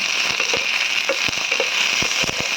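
Dry fruits frying in a spoonful of ghee in a pan, a steady bright sizzle with scattered crackles and pops throughout, no talking.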